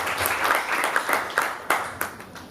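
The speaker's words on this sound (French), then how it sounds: "On applaudit pour les brillants s'il vous plaît." Guests at a civil wedding applaud the newlyweds, a fairly faint patter of clapping with a few sharper individual claps standing out near the end.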